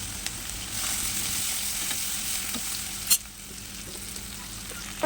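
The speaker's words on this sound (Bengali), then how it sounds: "দুটো শুকনো লঙ্কা দিয়ে পেঁয়াজটা দিয়ে এবার ভালোভাবে নেড়ে দেব" Steady sizzling of onions frying in a pan, with occasional scrapes and a sharp clack as they are stirred; no talking.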